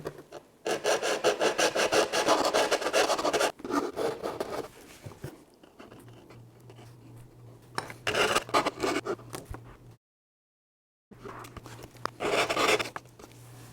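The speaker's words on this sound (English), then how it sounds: "We'll need to clean that up with some sanding sticks." A plastic part of a 1/100 scale Estes Saturn V model rocket is sanded with sanding sticks in quick back-and-forth rasping strokes, close and fairly loud, in several bursts broken by pauses, over a faint low hum.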